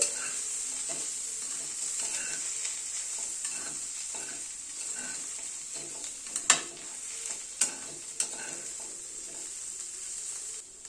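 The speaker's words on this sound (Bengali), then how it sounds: "জিরের গুঁড়োটা আর নারকেল কোড়াটা একটু মিশিয়ে দিচ্ছি।" Roasted cumin powder and grated coconut get stirred into spinach ghonto with potato and cauliflower in a frying pan, a soft scraping stir over a steady sizzle, with a few sharp utensil knocks near the end.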